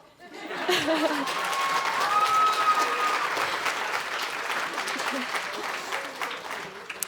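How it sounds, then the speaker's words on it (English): Wedding guests at a private estate reception break into applause that swells quickly and holds steady for several seconds, with scattered laughter and murmuring voices mixed into the clapping. "Okay, clap"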